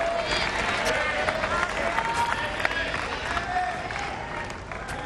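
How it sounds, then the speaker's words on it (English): Tennis crowd at a 2003 Washington ATP match between Henman and Roddick, loud and steady with yelling, cheering and scattered clapping throughout, a commentator speaking over it. "They're yelling for Roddick right now."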